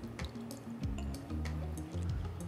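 Water with chopped garlic poured into a pot of simmering dal makhani, giving close, gurgling splashes and drips over about two seconds, with no talking.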